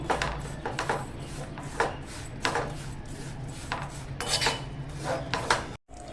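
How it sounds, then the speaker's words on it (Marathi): Jaggery melts in hot ghee in a pan over a low flame for sesame-jaggery laddoos, stirred without pause. A spoon scrapes the pan in repeated close strokes with soft sizzling underneath, and no one speaks. "या तुपामध्ये ना आता आपण गूळ घालून घेऊया बारीक गॅस करून आहे ना सतत ढवळत राहायचं आहे"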